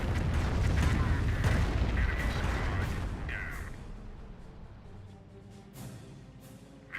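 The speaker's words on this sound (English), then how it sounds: "The rocket barrage running on in." A rocket barrage in Company of Heroes pours out as a dense, rolling rumble of overlapping blasts that thins gradually, with scattered distant impacts and a commentator's voice underneath.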